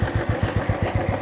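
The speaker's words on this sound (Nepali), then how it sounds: "ल हेर इन्जिनको आवाज सुन" A car engine runs at a steady idle, a close, low rhythmic chugging pulse repeating evenly without talk.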